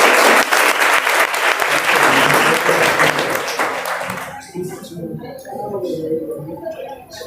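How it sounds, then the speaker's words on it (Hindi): Audience bursting into loud, sustained applause in a hall at a Teachers' Day ceremony at a district education training institute, dense clapping that fades after a few seconds into a few scattered claps and murmurs. "एक बार जोरदार तालियों से।"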